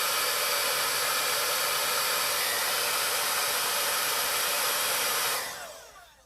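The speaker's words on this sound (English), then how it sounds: "take your hair dryer and blow your eyelashes up" A handheld hair dryer blows steadily on eyelashes coated in lash primer, a loud, even whoosh that holds for several seconds, then cuts off and fades near the end.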